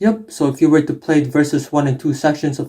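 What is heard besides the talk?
None of the usual background noises is heard.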